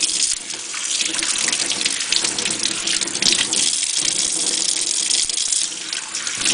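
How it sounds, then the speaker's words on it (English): Tap water runs into a kitchen sink as pennies are rinsed off after a white vinegar soak, a continuous close splashing gush with small clinks and shifts in the flow, no voices. "Really washing out the pennies."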